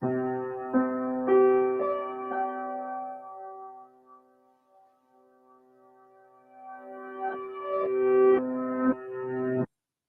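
Layered electronic tones from a sonification of the TOI-178 planetary orbits build up step by step into a droning chord, fade almost to silence, then swell back with pulsing beats before stopping abruptly.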